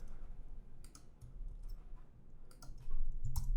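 Soft computer mouse and keyboard clicks while code is being copied, a few scattered light taps close by in a quiet room.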